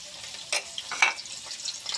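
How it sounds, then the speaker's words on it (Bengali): Onion fries in hot oil with whole spices, giving a soft, continuous sizzle broken by a couple of brief stirring scrapes, close and moderately quiet. "পেঁয়াজটা হালকা ভাজা হয়ে গেছে"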